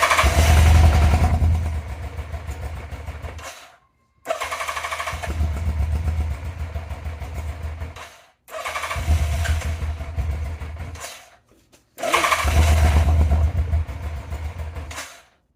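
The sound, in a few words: Yamaha FZR 1000 Genesis motorcycle engine trying to start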